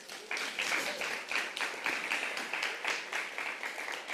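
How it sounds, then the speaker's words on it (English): An audience gives a round of applause at a women's empowerment summit, rhythmic clapping from many hands, steady and fairly distant. "Another big round of applause."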